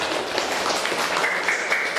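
Students in a classroom give group 4 a short burst of applause, a brief patter of clapping at moderate volume.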